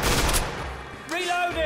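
Chain gun fire in the game Killing Floor, a brief loud rattling burst at the start followed by a quieter stretch and a sweeping electronic whine.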